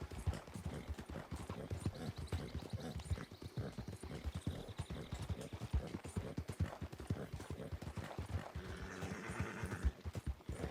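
A horse gallops in Red Dead Redemption 2, with fast rhythmic hoofbeats close and steady throughout and a brief whinny partway through, with no talking.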